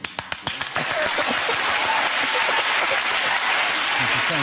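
Applause from a studio audience on a British TV chat show. A few separate claps quickly swell into dense, sustained clapping that stays loud and even to the end.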